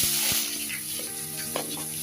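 Chopped onions hitting rendered pork fat in a pan over high flame give a close, steady hiss and crackle. A few clinks and scrapes and a faint tonal hum sit underneath it.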